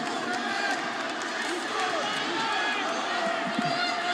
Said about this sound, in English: Everybody's cheering him on